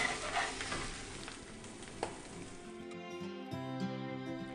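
Silverbeet (Swiss chard) cooking in a fry pan on a moderate heat, giving a soft, steady sizzle and gentle stirring sounds close by, with a brief clatter midway.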